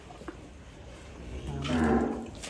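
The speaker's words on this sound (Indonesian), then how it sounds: "Sapi hitam dan putih." A black and white cow lets out a low, drawn-out moo near a rice field in the evening, rising over faint outdoor background noise toward the end.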